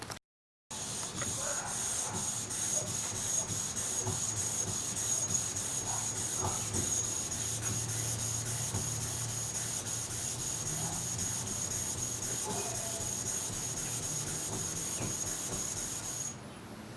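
A spokeshave blade is rubbed back and forth on a 1200 grit sharpening stone, giving a steady, close, hissing scrape that runs for about fifteen seconds without pause.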